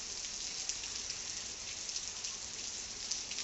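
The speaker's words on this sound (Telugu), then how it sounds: "చూడండి వాన అస్సలు 3 రోజుల నుంచి ఇదే వాన" Steady rain pours down without pause, a continuous hiss of drops hitting surfaces, with a few brighter patters standing out now and then.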